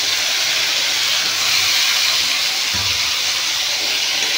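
Eggplant, taro and kohlrabi hit a hot pan and sizzle as fish curry vegetables fry. A loud, steady, close hiss runs throughout with a few soft clunks of the pan, and no one speaks.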